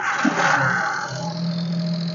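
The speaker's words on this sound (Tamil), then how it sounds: "காரோட இன்ஜின் சவுண்ட் எப்படி இருக்கு அப்படிங்கிறத பார்ப்போம்" A used 2006 Maruti Alto's engine runs steadily at idle, a low even hum with a faint higher whine, close by and alone, with a brief soft knock near the start.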